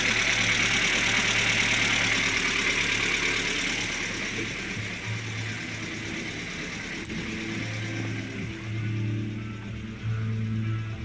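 Car engine running on LPG, settling into a smooth, even idle after the switch from petrol; a steady mid-level hum with slight fluctuations, close by and alone with no talk.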